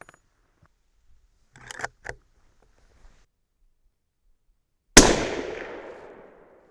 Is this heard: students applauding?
no